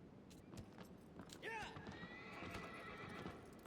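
Horse neighing in the Shadow of the Colossus video game: a single clear whinny rises over steady hoofbeats and background game ambience.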